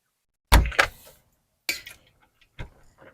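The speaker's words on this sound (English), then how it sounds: "but I need to close the door first." An apartment door being shut: a sharp wooden knock followed by a second thud, then a latch clunk and a faint final click, close and alone in a quiet room.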